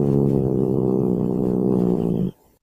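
A cat growls with its mouth closed, giving a low, rough, continuous rumble that holds steady and close for just over two seconds before stopping abruptly.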